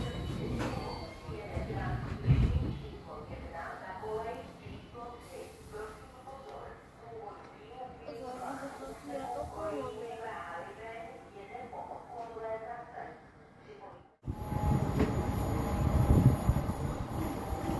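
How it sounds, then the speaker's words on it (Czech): Slovácký expres train approaching and overtaking, a rumble of wheels and rail noise under people talking, swelling into a louder close rush near the end. "Slovácký expres nám sem přijíždí. Ten nás předjede teďko."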